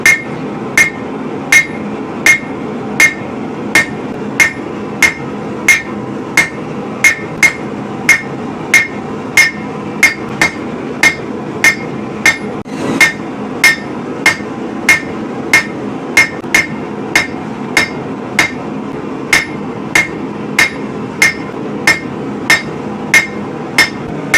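A hammer forges a WWII German rasp into a short sword, striking hot steel in a steady, evenly spaced series of loud, ringing metallic blows close by, with no talking.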